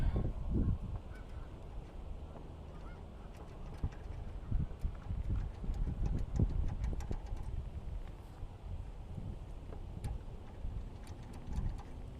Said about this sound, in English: Geese sounds like laughing teens.